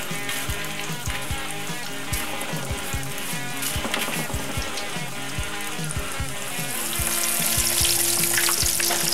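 Four breaded chicken fried steaks sizzle in a pan over medium-high heat, a loud, dense crackle of frying oil with steady popping that runs the whole time.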